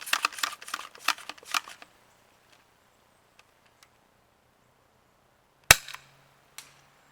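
A pump air gun charged with seven pumps fires once: a single sharp crack stands out after a stretch of quiet, with a softer click a moment later. Earlier there is a rapid cluster of clattery handling noises.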